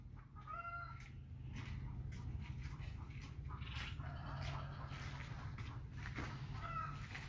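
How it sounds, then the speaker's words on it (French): A chicken clucks in short, faint bursts near the start and end, partly buried under steady, broad background noise. "Voilà une poule qui sort."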